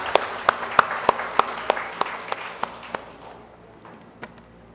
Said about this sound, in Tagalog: Isa pong palakpak pa sa ating dakilang Diyos.